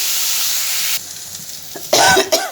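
Loud close sizzle of vegetables frying in a pan for chow mein, cutting off abruptly, followed by a short burst of sputtering and a cough-like sound.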